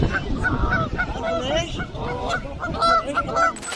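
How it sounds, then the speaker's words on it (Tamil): At a zoo, two ducks honk loudly and repeatedly in quick bursts as they harass a rhinoceros, with the calls overlapping close to the microphone. "2 வாத்துகள் அங்க மேய்ஞ்சிட்டு இருந்த அந்த காண்டாமிருகத்தை போய் சீண்டுது."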